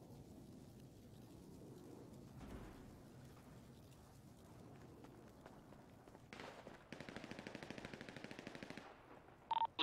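Gunfire in a role-play video game, heard as a quick burst followed by a longer run of rapid automatic shots near the end, with faint background sounds before it.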